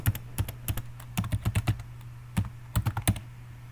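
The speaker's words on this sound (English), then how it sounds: "go ahead and try to test this out by typing some letters in there" Letters typed on a computer keyboard while entering values into an Excel drop-down list cell: sharp, close plastic key clicks in short irregular bursts with brief pauses, no talking.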